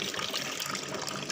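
Water running from a tap during handwashing, a steady close gushing splash lasting throughout without interruption.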